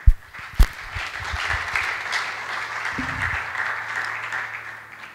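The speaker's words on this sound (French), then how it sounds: "On peut acclamer, s'il vous plaît." Audience at a training workshop and conference applauding, steady crowd clapping heard from a moderate distance, with a couple of louder knocks at the start and a brief low voice partway through.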